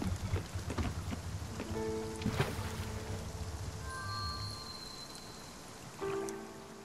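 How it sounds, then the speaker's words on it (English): Steady rain falls in the video game Spiritfarer, a dense even patter with soft drops, overlaid by gentle musical tones that come and go. "Oh, this rain. Will it ever stop?"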